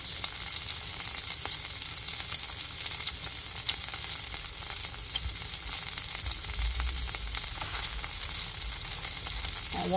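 Bread toasting in a frying pan for a simple breakfast egg sandwich, giving a steady, soft sizzle and crackle that holds evenly throughout with no voices.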